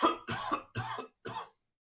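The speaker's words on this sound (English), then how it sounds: "Trying not to cough directly into the microphone." Four separate coughs in quick succession, close and fairly loud, each a short harsh burst, followed by silence.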